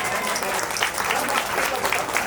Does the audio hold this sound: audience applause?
yes